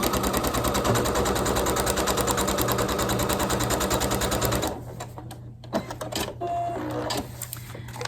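Sewing machine stitching a seam line on a foundation paper-pieced quilt block, a fast steady needle chatter for several seconds before stopping, followed by quieter handling clicks and rustles.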